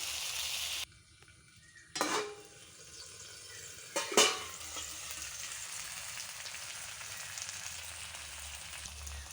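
Marinated chicken fries in a pan with a soft, steady sizzle, broken by a few sharp scrapes and clatters of a spatula early on.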